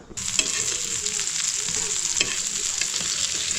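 Croaker fish frying in a pan, a continuous close sizzle with occasional spatula scrapes and taps over the hiss.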